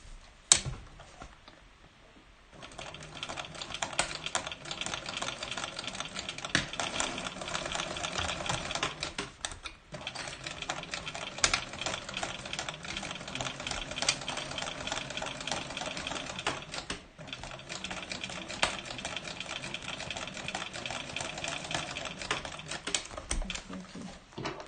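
A sewing machine runs in long, fast bursts while stitching a seam, with a rapid mechanical needle clatter that pauses briefly a few times, up close and fairly quiet.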